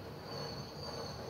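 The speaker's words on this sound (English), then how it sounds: "Because I see a freight train behind me." Freight train passing in the Rails Unlimited video game, a quiet steady rolling rumble with a thin high wheel squeal held throughout a brief moment.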